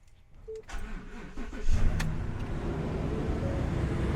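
A truck engine on a weak battery, slow labored cranking for over a second before it catches and settles into a loud steady idle close by.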